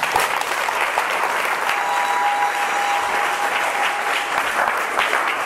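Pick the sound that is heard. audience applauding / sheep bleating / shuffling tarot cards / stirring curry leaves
audience applauding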